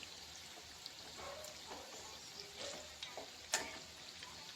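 Kolar pitha, banana fritters, sizzle quietly in hot oil in a pan after being flipped, a soft continuous frying hiss with scattered small pops and crackles, fairly faint and with no voices.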